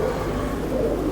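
Indian pigeons of a high-quality breed coo steadily at close range, a soft continuous low murmur with no talking over it.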